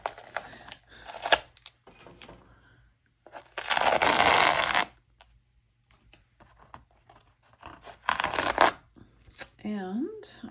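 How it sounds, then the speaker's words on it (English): Masking tape is peeled off the edge of a watercolour painting in a few short tearing bursts, one long rip in the middle, with a person talking in between. "I mean, peel off the tape."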